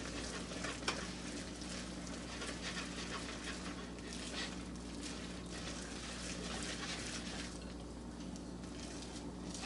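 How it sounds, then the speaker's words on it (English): Low carb chocolate chip cookie dough is stirred in a bowl, a steady soft scraping and squishing close up, continuous and fairly quiet throughout without talk. "Then just mix that all up."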